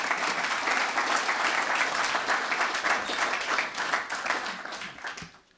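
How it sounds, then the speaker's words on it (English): Audience applause after a speech and memento presentation at a business ethics forum in Bled, Slovenia; dense, steady clapping from a sizeable crowd, sustained throughout and tapering off at the end. "Big hand, a round of applause."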